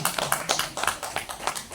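Several people clap in a short burst of applause for a guest teacher at a school teaching-practice presentation, with quick overlapping claps close by that hold steady for under two seconds.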